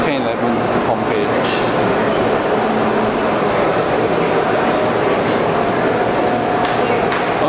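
A train to Pompeii rumbles steadily throughout with a continuous loud roar of wheels on rails, faint clatter and a voice speaking over it.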